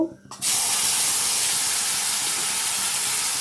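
A loud, steady sizzling hiss bursts in after a brief quiet moment and holds strong, like spices dropped into hot oil.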